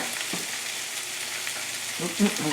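Minced garlic sizzles in a frying pan with sugar and vegetables, a quiet, steady hiss of frying with a couple of soft stirring knocks near the end.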